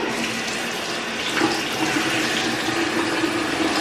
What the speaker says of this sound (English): I'm going to go ahead and dip my head in the sink